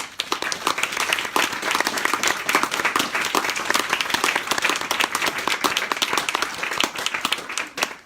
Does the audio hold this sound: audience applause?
yes